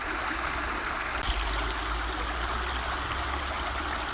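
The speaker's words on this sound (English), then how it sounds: "there's a concrete archway which is channeling the water of this stream down towards where the water treatment works once stood." A stream runs hard through a concrete archway at an abandoned water treatment works, its swollen water giving a loud, steady rushing roar with a deep low rumble, constant and close throughout.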